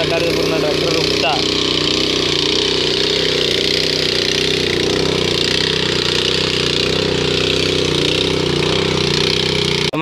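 A tractor engine works in a muddy field during ploughing, a loud, continuous mid-pitched rumble that holds steady throughout, close to the listener with no clear break in its droning.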